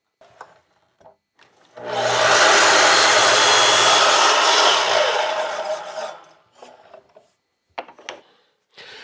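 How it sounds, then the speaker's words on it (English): A miter saw cutting wooden gable ends for a drink tote, a loud close whining cut lasting about four seconds, surrounded by quieter handling knocks and clicks before and after. "Now I'm back to the miter saw because I need to cut the gable ends to length."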